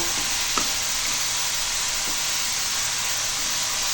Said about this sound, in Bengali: দেখো ঢ্যাঁড়সটা এখন রান্না হচ্ছে